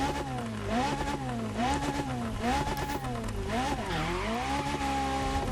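A high-revving Alfa Romeo 33 Stradale engine in The Crew Motorfest rises and falls in pitch through repeated gear changes, loud and steady with no talking.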